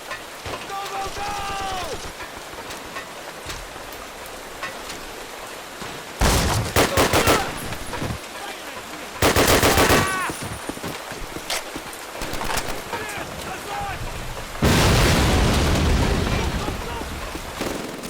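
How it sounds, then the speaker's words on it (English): Machine gun fire in the Call of Duty Ponyri tank factory battle, loud sustained bursts in several dense blocks, separated by quieter stretches of scattered shots and someone talking. "I can't hear anything over the sounds of regular gunfire, let alone the gigantic hell machine guns"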